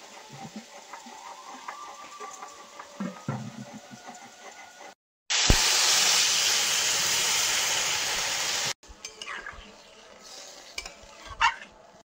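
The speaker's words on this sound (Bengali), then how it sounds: "এবার তরকারিতে জল দিয়ে দেবো।" Water poured into a pan of sizzling fish curry with pumpkin leaves sets off a loud, steady burst of hissing that lasts several seconds, after quieter stirring and frying sounds, then settles back into gentle simmering and scraping.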